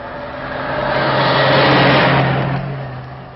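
A car passes along a road, its engine note swelling as it approaches, peaking near the middle and fading away as it recedes, with a steady mid-pitched motor hum.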